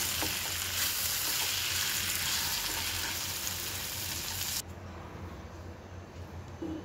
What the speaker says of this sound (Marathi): आपण हलवून घेऊ चांगलं।